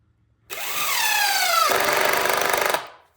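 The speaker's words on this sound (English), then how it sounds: "So we'll get a couple screws in." A power drill drives screws into wood during a garage build, its motor whirring up loud and close for about two seconds, then shifting to a rougher, rattling grind as the screw seats before it cuts off.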